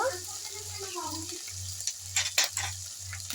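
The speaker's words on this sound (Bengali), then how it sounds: "দিয়ে আমি একটু জল দিয়ে মশলাটা কষিয়ে নেব" Turmeric, salt and chili powder fry in a pan with a soft, low sizzle and small crackles, under a faint pulsing hum and someone talking quietly.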